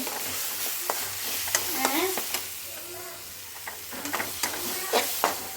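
Spices with turmeric and coriander powder being stirred and sautéed in a hot pan, a steady sizzle broken by scraping and clinking strokes of the spoon, close by, with no talking.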